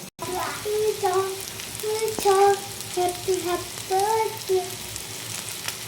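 Broad beans (chikkudu) fry in a pan with a steady, soft sizzle, and a voice is heard faintly over the cooking.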